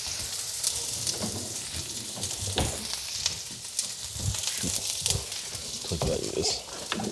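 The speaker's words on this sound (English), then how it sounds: "we're gonna add in our shallots, and we're gonna caramelize the shallots" Shallots fry and caramelize in a hot pan with a continuous loud sizzle and crackle, broken by a few stirring scrapes and pops.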